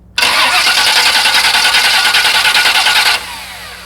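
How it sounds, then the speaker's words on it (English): A car engine cranks on its starter for about three seconds, a loud, close, rhythmic churning that stops abruptly without the engine catching. "Crank it for about 5 seconds."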